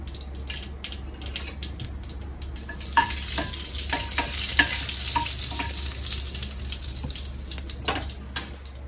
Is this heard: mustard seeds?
yes